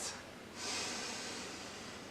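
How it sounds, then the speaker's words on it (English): A single slow, deep breath drawn in through the nose during a calm breathing exercise, soft and close, with a brief hissy start followed by a longer airy inhale. "let's take a nice deep breath"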